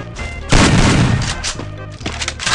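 Pistol fire cracks in a shooting video game: a loud burst of rapid shots, then a few more sharp reports, close and dominant with almost no talking.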